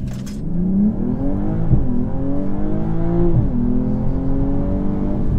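A BMW M240i xDrive launches from standstill under launch control in Sport Plus mode, its engine revving hard and climbing through rising gear pulls with short shift dips, loud and steady from inside the car, no speech.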